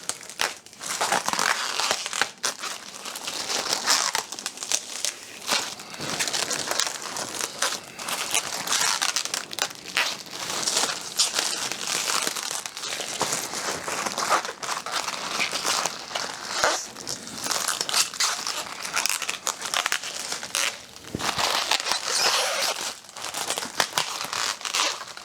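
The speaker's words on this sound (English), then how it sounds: "take and peel off the coating for the first little bit" Protective plastic film peeled off an aluminium aircraft wing nose skin, a dense, continuous crinkling and crackling that runs steadily and loud throughout at close range, with no talking.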